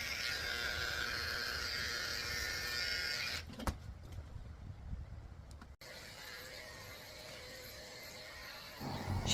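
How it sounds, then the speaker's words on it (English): Electric grooming clippers fitted with a 30 blade buzz steadily and close by while trimming the paw pads of a Pomeranian mix, then cut out briefly amid handling noises before buzzing again. "I'm starting out by shaving the pads of her feet with a 30 blade."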